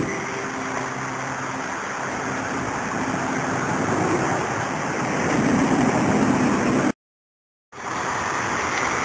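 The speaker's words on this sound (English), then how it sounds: "A rushing brook coming down through town into the creek." A rushing brook pours down through town into walled, leveed Los Gatos Creek, a continuous broad hiss of flowing water that swells slightly before a brief cut to silence, then resumes.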